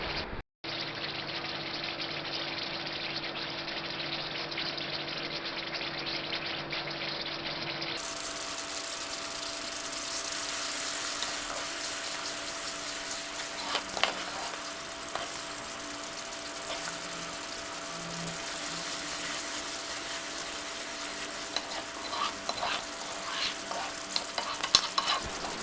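Papaya halwa thickening in ghee is stirred in a pan, giving a continuous bubbling sizzle with scraping and stirring strokes throughout, fairly quiet and close, with no voices.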